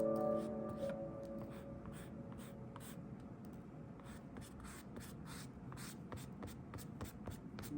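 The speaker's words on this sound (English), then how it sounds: "go in with an eraser, a kneadable eraser, and I'm just going to erase it so that it's very light" A kneadable eraser lightly working over a pencil sketch on paper, making quiet, close, rhythmic rubbing strokes in a steady series, with no voices.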